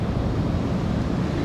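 Ocean waves washing onto a Caribbean nesting beach at Tortuguero, Costa Rica, at high tide, a low continuous roar of surf with wind buffeting the microphone, no voices.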